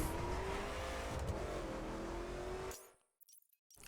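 Corvette Stingray muscle car in The Crew, its engine holding a steady, loud drone with a faint rising pitch and tire noise before cutting off abruptly into near silence with a few brief thumps.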